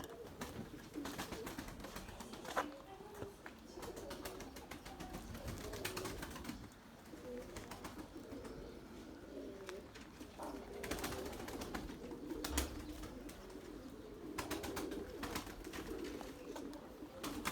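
White Candır pigeons coo softly and repeatedly in a loft, low throaty calls recurring throughout with occasional sharp wing flaps and clatter, no talking.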